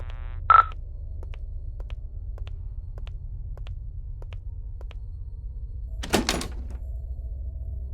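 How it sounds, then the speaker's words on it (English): A locked door in the horror game Paranormal Entities gives one brief, harsh rattle near the end, over a steady low hum, evenly spaced soft ticks and an earlier short beep. "Dang, the door's locked."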